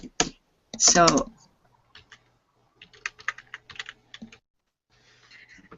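Keys on a computer keyboard tap in short uneven bursts close by, following a few spoken words and broken by brief pauses in a quiet room.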